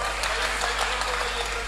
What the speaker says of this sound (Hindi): ताली बजा दो सर